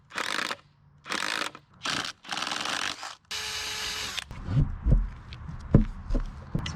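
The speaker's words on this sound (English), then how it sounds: "take a ratchet and drive it in" A ratchet drives wing nuts and washers onto a bolt in a crawl space, making four sharp whirring bursts separated by short pauses, then a longer run followed by scattered clunks and knocks.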